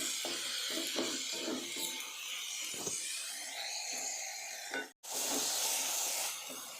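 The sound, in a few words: tomatoes being stirred and cooked in a pan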